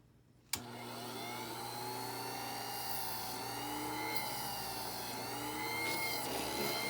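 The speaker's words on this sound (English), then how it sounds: "I always line up where my drill bit is gonna go before I turn on the drill." A power drill bores a hole through acrylic sheet: a sharp start click, then a steady, loud motor whine with a constant hum that holds, rising slightly, for the whole stretch, close to the microphone with no talking.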